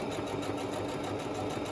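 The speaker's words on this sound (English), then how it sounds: "that's why I'm doing a straight stitch here" A sewing machine running a straight stitch through book pages, a steady fast mechanical whir with an even pulsing rhythm, close and continuous with no talk.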